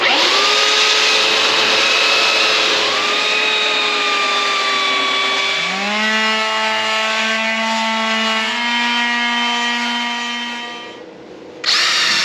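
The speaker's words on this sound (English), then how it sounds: "So we're going to go ahead and start sanding this down a little bit" A power tool whines loudly and continuously, shifting pitch several times as it sands a log for a bench, with a sharp burst of noise near the end and no voices.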